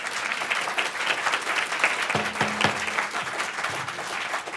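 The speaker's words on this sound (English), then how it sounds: "Please hold your applause." Moderate applause from an audience at a county Board of Commissioners meeting, a continuous patter of clapping with a brief low tone partway through.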